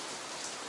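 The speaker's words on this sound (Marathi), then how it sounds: "पाऊस बघा, बाहेर पाऊस चालू आहे." Rain falling outside a house in the Konkan region at night, a steady dense patter that stays even throughout a very brief moment.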